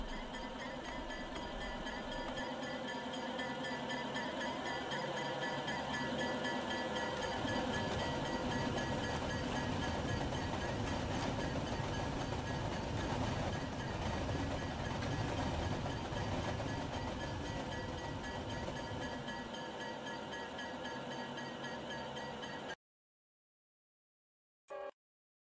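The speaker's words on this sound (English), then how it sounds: "This is the last time that a Sorgor passenger train will ever cross over the historic Lockhead Trestle." A passenger train crossing the historic Lockhead Trestle, rumbling loudly and continuously with rhythmic wheel clatter and mechanical drone for over twenty seconds before cutting off abruptly.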